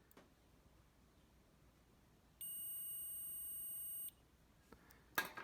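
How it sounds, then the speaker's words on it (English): A steady electronic beep from a continuity tester checking a Casio DW-5600C watch sounds for under two seconds in an otherwise quiet setting, followed by a few faint clicks. "You hear that? You get a beep."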